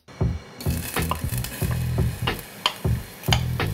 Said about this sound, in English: So we just want to cook the tomato down